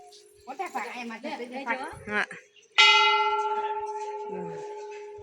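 Voices chatter at first, then a single loud temple bell is struck, its bright metallic ring sustaining and slowly fading over several seconds.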